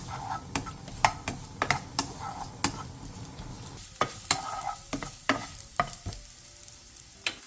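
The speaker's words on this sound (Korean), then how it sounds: "팬에 기름을 두른 뒤 어묵을 넣고 센 불에서 노릇하게 한번 볶아내주세요" Fish cakes sizzle in oil over high heat in a pan, with sharp, irregular clicks and scrapes from a utensil stirring them.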